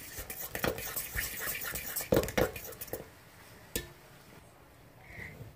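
Ingredients being mixed together in a greased pan at home, heard as a series of close, quiet utensil scrapes and clinks against the pan, clustered at first and then thinning out into sparse taps.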